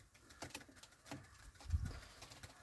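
A low, soft coo from a white-tailed show pigeon rises briefly from a faint, noisy background, close but quiet.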